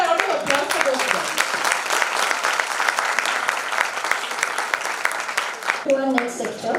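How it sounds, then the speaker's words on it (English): An audience at a medical lecture event on menopause and hormonal health gives a round of applause for the women presenters; continuous dense clapping runs for several seconds, with a voice briefly emerging near the end. "one bigger round of applause for those girls"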